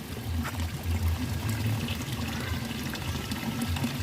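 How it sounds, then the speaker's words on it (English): A small outdoor stream runs steadily close by, its continuous trickling and pouring flow alone with no talk. "What I came to actually see is this stream over here."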